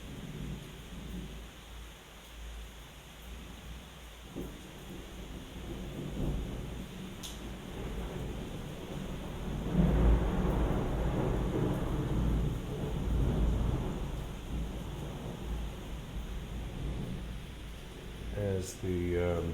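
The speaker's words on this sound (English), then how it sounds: "It's raining as well." Steady nighttime rain hisses throughout in Taxco, Mexico, while low thunder rumbles and swells in the middle, with a faint voice now and then.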